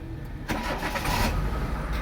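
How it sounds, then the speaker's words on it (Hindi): A Hyundai Santro with a faulty idle speed control actuator cranks and fires up after an ECM replacement, settling into a steady close idle with no talk. "ये गाड़ी स्टार्ट की"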